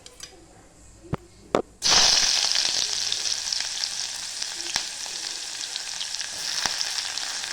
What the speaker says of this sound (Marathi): कांदा आला चांगला लालचा रंग म्हणजे येईपर्यंत परतून घ्यायचा